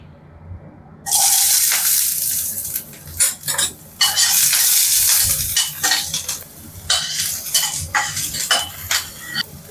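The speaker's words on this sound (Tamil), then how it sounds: "இப்போ வெங்காயம் தக்காளிலாம் வதக்கிக்குவோம்." Small shallots and tomatoes sautéing in a pan, a loud sizzle bursting in after a quiet opening second and continuing with uneven scraping and stirring clatter, no voices.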